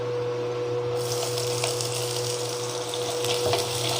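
Small shallots drop into hot oil with browned urad dal in a pan for a keerai poriyal, and the frying hiss swells after a second into a steady close sizzle with no voices.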